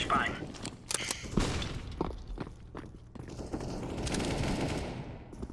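Rapid automatic gunfire and shots ring out in the video game Overwatch, bursts of sharp cracks mixed with footsteps and game effects, under a player talking.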